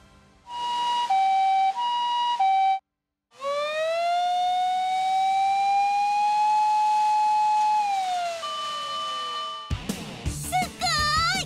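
A fire-ambulance vehicle siren sounds loud and alone: first a two-tone alternating wail, a brief cut, then a long rising and falling wail that shifts pitch, ending in a burst of rapidly warbling tones.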